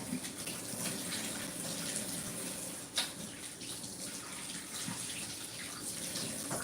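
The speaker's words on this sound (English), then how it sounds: "I gotta stir my sauce, so I gotta wash my hands." A kitchen tap runs continuously as hands are washed under it, a steady close splashing hiss with one brief knock partway through.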